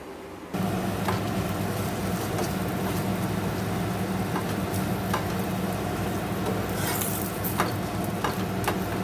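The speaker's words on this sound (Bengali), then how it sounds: "সেঁকে নিচ্ছি, তারপর ভাজবো।" A lachha paratha cooks in a hot pan, giving a steady, close sizzle and frying hiss that runs unbroken, with a few faint scraping clicks, and no voices.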